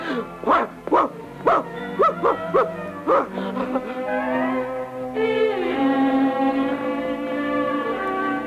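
A dog barks in a French radio drama adaptation of The Blue Bird, broadcast in 1976. A quick run of sharp, close barks gives way to longer, drawn-out whining yelps.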